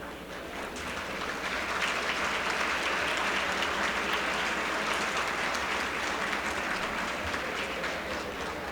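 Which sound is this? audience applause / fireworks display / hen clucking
audience applause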